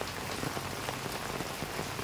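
Heavy rain in a Philippine province during flooding, a dense steady hiss of drops pounding surfaces, continuous and fairly close with no voices.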